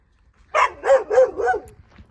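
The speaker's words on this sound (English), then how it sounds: "this dog is really unhappy that I'm here" A dog on a road, unhappy at a passing runner, gives a quick burst of four loud, close barks, then falls quiet.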